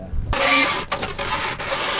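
Wind-packed drift snow being cut and worked: a short burst of close, crisp, squeaky scraping and crunching that starts abruptly after a brief quiet moment and carries on in uneven strokes, with no talk.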